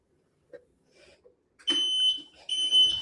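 Electronic alarm beeping from a new scooter, a steady high tone sounding twice in close succession after a few soft knocks, fairly loud and near.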